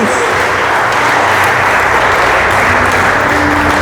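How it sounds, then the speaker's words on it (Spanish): Loud, dense applause from a church congregation, many hands clapping in a continuous steady wash from start to finish, with no talking over it. "Fuerte ese aplauso."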